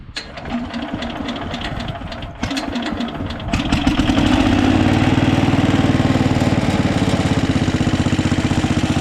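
A Minnie Mo 112 small engine cranks with rough, uneven chugging, then catches at about four seconds and settles into a loud, steady running drone that holds to the end.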